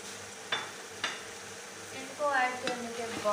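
Capsicum and cabbage are stirred in a hot pan with a spoon, a quiet continuous sizzle punctuated by a few sharp clinks and scrapes, growing busier toward the end.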